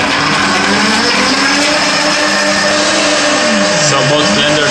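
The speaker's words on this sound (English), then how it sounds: "So both blenders, they are functioning." Two vacuum blenders, a Breville Super Q and a Kuvings SV500, run together blending a green smoothie, a loud continuous motor roar with a shifting, dipping pitch as the contents churn.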